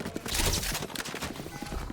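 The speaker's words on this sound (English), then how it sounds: "Very quick gunfire coming through." Rapid bursts of gunfire crackle through an esports tactical shooter match in a Wake Tech versus Bergen Community College game, dense and continuous over about two seconds with no pauses.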